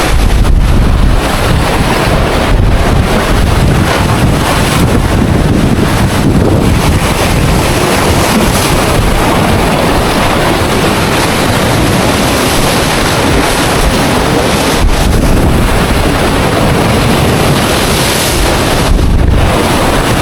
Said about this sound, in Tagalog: Medyo malakas yung alon dito guys. Lumakas kasi kanina yung hangin nung umulan.